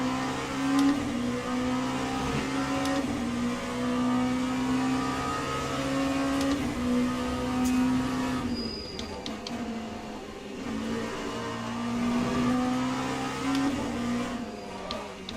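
Sim racing engines from Le Mans Ultimate at a multiclass endurance event on the Fuji circuit, with LMP2 prototypes and Porsche cars droning steadily under commentary, their pitch rising and falling as the cars run through corners.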